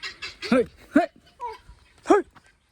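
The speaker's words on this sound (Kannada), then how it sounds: "ನೋಡ್ರಿ ಇವು ಕೋಳಿ ಇವು ಯಾವ ಕೋಳಿ ಅವ ಗೊತ್ತಿಲ್ಲ, ಹ್ಯಾಂಗೆ ಸೌಂಡ್ ಮಾಡ್ತಾರೆ" Chickens of an unidentified breed give a few loud, harmonic clucking calls in bursts, close by, with pauses between them.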